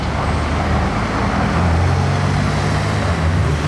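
Two Porsches, a GT2 RS and a GT3 RS, roll in at a car auction in Paris, their engines a low steady rumble mixed with general road and crowd noise, loud and continuous.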